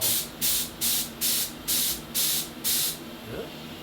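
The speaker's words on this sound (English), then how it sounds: "I'm gonna be trying to spray it all." A spray gun lays coating onto the body of a 1974 VW Beetle in short repeated bursts, about seven even hissing passes roughly half a second apart, close and fairly loud, then stopping.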